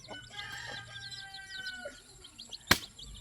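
Chickens cluck close by in a family yard setting, with a steady run of short calls and a brief crow-like call, plus one sharp flap or bump near the end; no one speaks.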